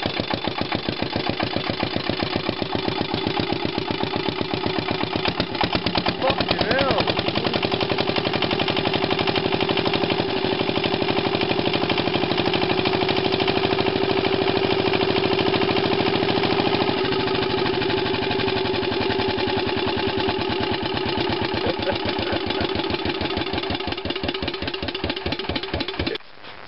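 A Coventry Victor engine runs steadily with a loud, rapid, rattling rhythm and audible valve clatter, its pace shifting slightly partway through before settling again.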